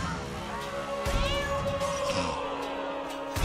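A cat in South Park: The Stick of Truth yowls in a drawn-out, wavering meow over busy game sounds and battle noise, loud and close.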